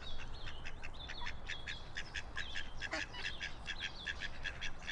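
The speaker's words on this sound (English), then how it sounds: "look at this little duckling." Small duckling calling with a rapid series of thin, high peeping chirps, steady and fairly close over a soft background hiss, with no talking.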